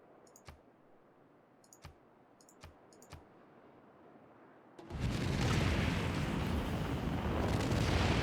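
A few faint clicks from the Civilization VI game interface sound first, then the Mars reactor completion sound bursts in as a loud, sustained roaring rumble that holds to the end.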